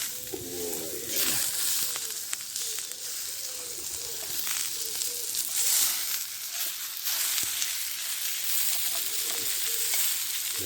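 Potatoes and onions frying in a pan at a wild woodland campsite in Scotland, a continuous close sizzle and crackle with occasional stirring and faint outdoor sounds like a distant bird behind it.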